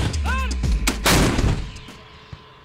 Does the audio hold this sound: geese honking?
no